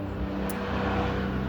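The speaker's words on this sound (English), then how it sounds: "I'll kind of let this plane go by." A passing airplane overhead gives a steady, broadband engine rumble and roar, fairly loud and unbroken throughout the brief stretch, with no talking.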